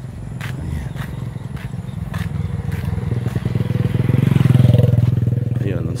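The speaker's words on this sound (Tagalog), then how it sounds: "yung motorsiklo, yung karaniwan niya. Sasakyan nila dito." A motorcycle approaches and passes on a small provincial road, its engine rumble swelling to a peak then easing off, with a person talking over it throughout.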